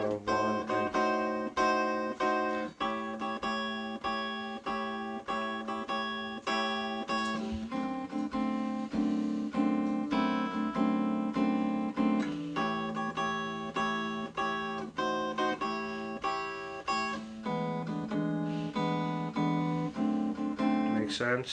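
Fingerstyle blues guitar in A, with a steady plucked bass pulse and added swing eighth notes. The chord voicings shift every few seconds across a continuous, evenly paced passage.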